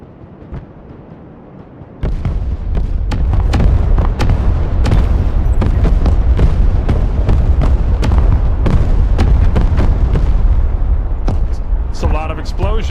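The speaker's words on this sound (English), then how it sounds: "It's a lot of explosions." A loud, continuous barrage of booming explosions and sharp blasts in a video game, dense and chaotic, with voices faintly mixed in near the end.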